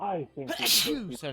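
A single person sneezes sharply in the middle of conversation, with people talking immediately before and after in a dusty indoor room.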